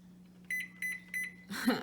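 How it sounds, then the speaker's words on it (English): A microwave oven heating s'mores hums steadily, then gives three evenly spaced electronic beeps before a door clunk at the end. "I'm going to throw her in the microwave."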